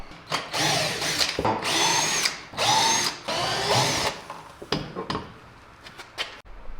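A power drill backs screws out of an MDF plate on a broken table saw in a woodworking shop. It gives several loud whirring bursts, each lasting about a second, separated by short pauses and followed by light clicks and taps.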